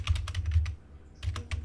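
Python code typed on a computer keyboard, a close run of quick key clicks in two short bursts separated by a brief pause, with no voice.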